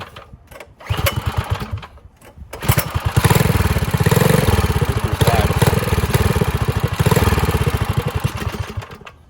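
A Predator 212 minibike engine is pulled to start, sputtering twice before catching, then revs loudly with a rapid, buzzing throttle-driven roar close by.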